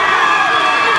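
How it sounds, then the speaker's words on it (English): A loud crowd at an MMA fight in a Spirit FC event roaring and cheering continuously, a dense wall of voices close and unbroken. "the crowd are going mental"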